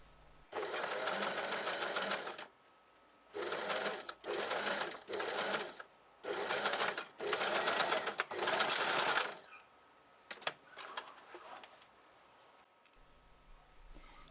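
Sewing machine stitching down a torn trouser pocket seam in several loud rapid bursts separated by short pauses, close, with a few faint clicks after.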